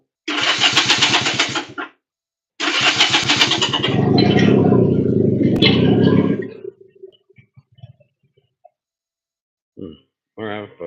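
A 1964 Honda Dream 250 motorcycle cranks over twice with a rapid starter whirr, then catches and runs briefly before dying out, followed by quiet clicks and a few short spoken words.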